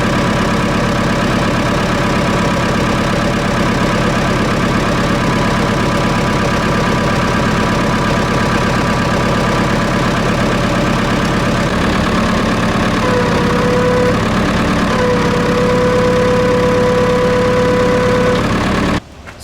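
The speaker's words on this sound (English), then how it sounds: "Alright, you got another cold start here." A Case 1290 tractor engine idling steadily after a cold start, a loud, close, even mechanical drone with a low rumble and a faint rhythmic knock that runs for the whole stretch before cutting off abruptly at the very end.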